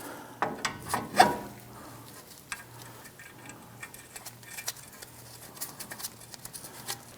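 Hand ratchet tightening the outer tie rod end on a Jeep Wrangler, a short run of quick clicking strokes followed by scattered fainter clicks and tool taps, close and fairly quiet.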